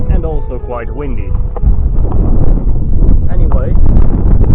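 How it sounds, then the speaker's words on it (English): Strong wind buffets the microphone on an open canal path in the Netherlands, a loud continuous low rumble and roar while someone talks over it. "and also quite windy"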